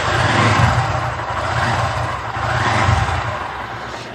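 A motorcycle engine runs close by with a steady, loud mechanical drone, swelling slightly as it revs and then settling, continuous throughout with no voices.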